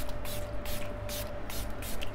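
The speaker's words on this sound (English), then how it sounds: "I'm gonna go in with the Milani Make It Last Original Spray." Several short hissing bursts of Milani Make It Last Original makeup setting spray in quick succession, close and fairly loud, with a faint steady tone underneath.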